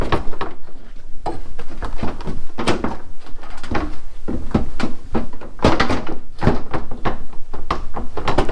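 A headlight assembly on a 2003 Toyota Matrix is worked back into its housing with a series of hard plastic thunks, knocks and scraping clunks in an irregular rhythm, loud and close.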